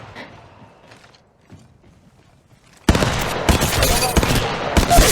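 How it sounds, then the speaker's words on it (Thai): A shootout in the mobile battle royale game Apex Legends Mobile breaks out suddenly after a quiet stretch, with loud rapid bursts of gunfire and clattering mechanical effects running continuously to the end. "มีคนยิงมาที่ฉัน"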